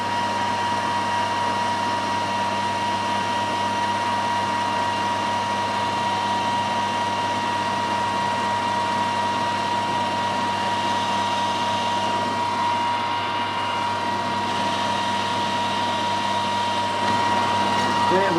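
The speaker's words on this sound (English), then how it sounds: "A few more RPMs on it, doing 1000 RPM there." A metal lathe turning at 1000 RPM and taking a fine cut on a compound slide handwheel part: a steady whining hum with a constant tone, close and continuous.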